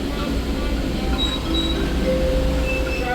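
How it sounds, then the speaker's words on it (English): The Cooperstown and Charlotte Valley Railroad dinner train rolls along with a steady rumble from inside the car, with faint wheel squeals and brief metallic tones over a constant low drone. "You're now on a moving train."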